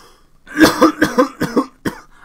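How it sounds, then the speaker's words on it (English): A sick person gives a burst of several harsh, chesty coughs in rapid succession, close and loud, then one final cough after a short pause. "I can't crop out that cough."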